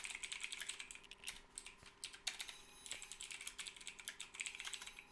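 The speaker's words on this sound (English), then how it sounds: "Sorry I'm typing so slowly." Someone types code on a computer keyboard, producing rapid, irregular clusters of close, crisp key clicks with short pauses between bursts.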